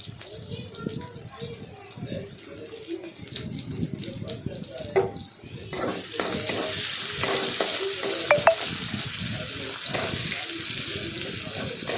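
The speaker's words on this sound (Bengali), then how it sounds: "পেঁয়াজটাকে ভেজে নিলাম" Onion paste, ground in a mixer, fries in oil in a wok with a dense, close sizzle and repeated scraping stirs, which grow louder and hissier partway through.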